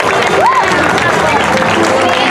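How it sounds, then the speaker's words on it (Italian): Crowd applause and cheering for gymnastics athletes at an outdoor exhibition in Meda, steady and full across the whole stretch, with an announcer's voice heard over it. "vi chiedo veramente un grandissimo applauso a tutti i nostri atleti"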